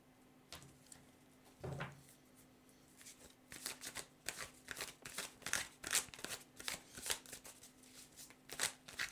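Cards shuffled for a tarot-style card reading, heard up close as repeated soft riffling bursts and flicks, gradually busier toward the end, with a low steady hum beneath.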